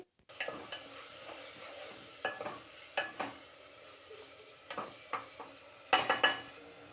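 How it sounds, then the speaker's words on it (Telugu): Chopped tomato fries with a green chilli, coriander and mint paste in a pan, a soft continuous sizzle broken by scraping stirs and light clinks of a spoon against the pan. "ఒక టమాటో సన్నగా ముక్కలాగా కట్ చేసాం కదా అవి కూడా వేసి వేయించుకోవాలి"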